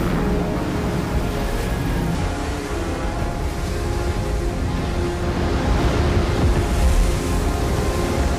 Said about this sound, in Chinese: 仅仅是一瞬间，海啸就摧毁了这一切。